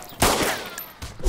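A quick burst of video game gunfire in a Prison Break stream, a loud cluster of shots up front and another short crack toward the end.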